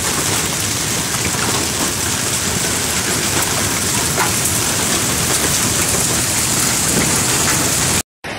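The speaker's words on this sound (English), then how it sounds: "This is how it started to rain in the downtown area at around 8 p.m." Heavy rain pours down during a storm in downtown Mar del Plata at night, a dense, loud, unbroken hiss of drops on surfaces that cuts off abruptly at the end.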